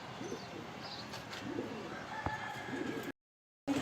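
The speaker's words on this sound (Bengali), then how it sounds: "এক জোড়া আফসান গ্রিজেল রেসার হোমা কবুতর।" A pair of grizzle racing homer pigeons, male and female, cooing softly in a loft, repeated low coos over faint ambient chirps, with a brief drop to silence near the end.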